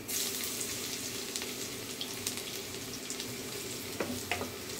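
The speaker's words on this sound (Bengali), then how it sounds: "এটা দেশি সরিষার তেল। এই যে আদাটা হয়ে গেছে, এখন এই রসুন কুচিটা দিয়ে দিতে আছে।" Chopped garlic goes into hot local mustard oil alongside fried ginger, sizzling in a steady close hiss with scattered light crackles.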